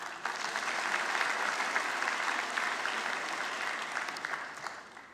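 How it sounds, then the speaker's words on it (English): A graduating class at a 2017 convocation applauds, a broad even wash of many hands clapping, steady and moderately loud throughout with no voices above it. "Why don't you give yourself a round of applause?"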